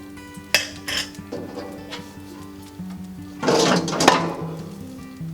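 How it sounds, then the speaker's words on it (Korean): A metal ash drawer being pulled out of an Omega Mint cast-iron wood-burning stove, a series of clanking and scraping metallic knocks in separate bursts, close and fairly loud, with faint background tones. "고온용 특수 우레탄으로 마감된 서랍을 빼서 처리하신 후에"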